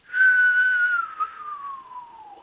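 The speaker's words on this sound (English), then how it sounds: "Send in the whistle." A person whistles one long, clear note that holds steady and then slowly slides downward, a single close, loud tone that fades toward the end.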